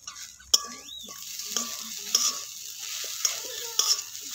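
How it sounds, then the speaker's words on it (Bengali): Jaggery melts in a pan while being stirred for a pitha filling, making soft scraping strokes and a few sharp spoon taps on the metal over a light sizzle, close and fairly quiet, with no talk. "গুড়টাকে ভালো করে মিশিয়ে নিচ্ছি"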